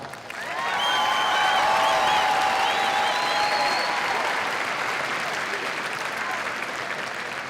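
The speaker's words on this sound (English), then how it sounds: "Please give yourselves a round of applause." A graduating class at a high school graduation ceremony breaks into a big round of applause that swells quickly and holds steady, dense clapping mixed with scattered whistles and cheers from a large crowd.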